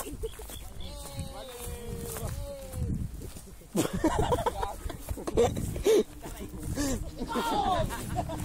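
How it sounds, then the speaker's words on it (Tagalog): Goats bleat in short wavering calls near a school campus, mixed in among loud, lively voices, footsteps and general outdoor bustle. "ito nilang kambing"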